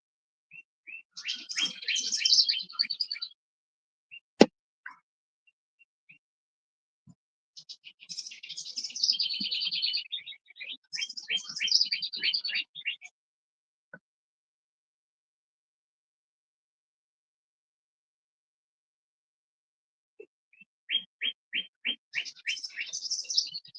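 Birds chirp in a cherry tree in bright, rapid bursts of repeated tweets with quiet gaps between them and one sharp click partway through.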